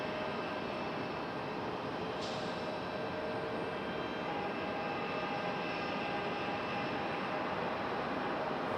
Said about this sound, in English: our 777 turning and making its way out to the runway.